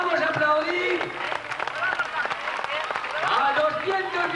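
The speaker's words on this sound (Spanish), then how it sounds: "Vamos a aplaudir" Crowd applauding the first-place finishers at a 1997 Sueca footrace awards ceremony, steady dense clapping with an announcer's voice running over it throughout.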